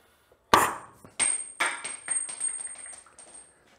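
An air gun forces the rear brake caliper piston out of a 1982 Honda GL1100 Goldwing: one sharp, loud burst followed by a quick run of shorter hissing air blasts and clanks, close up, with no talking.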